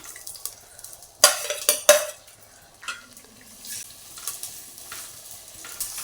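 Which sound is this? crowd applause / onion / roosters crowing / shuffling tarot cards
onion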